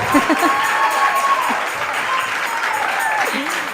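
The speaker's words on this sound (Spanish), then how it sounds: "les encanta aplaudir a ellos" A church congregation breaks into sustained applause, a broad steady roar of clapping with voices calling and murmuring through it.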